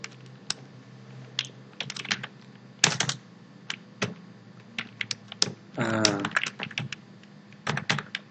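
Fingers typing on a computer keyboard while building a PowerPoint slide, with close, irregular clusters of key clicks and short bursts of faster strokes, plus a moment of quiet speech in the background.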